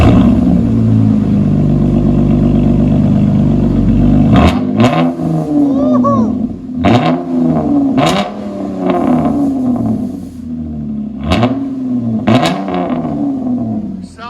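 A RAM truck with muffler and resonator deleted, straight-piped, revs up several times in sharp loud bursts after a steady idle, close to the exhaust and raspy.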